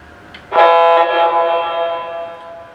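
A single Conventional Classics F-3 model diesel locomotive horn blast sounds close, loud at the start, then holds and slowly fades out.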